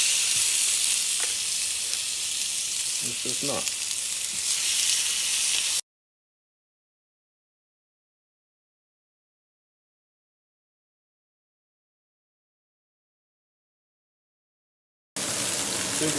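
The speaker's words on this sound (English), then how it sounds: "So I'm gonna start adding my chops. Into that sizzle." Lamb chops sizzling loudly in a hot pan, a bright steady hiss with brief talk, then a long silent gap before the sizzle returns.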